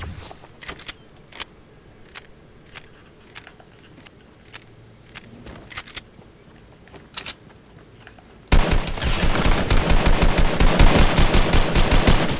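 Gunfire in the Fortnite video game on Nintendo Switch: scattered single shots and clicks at first, then dense rapid automatic fire, loud and continuous for the last few seconds.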